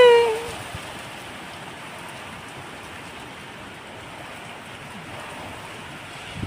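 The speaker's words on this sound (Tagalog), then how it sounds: "Nagkasamang ulan. Pero pag bumaba yelo." Heavy rain, with hail reported falling, pours down in a steady, dense hiss. A brief sharp tone sounds at the very start, then the downpour runs on alone at moderate loudness.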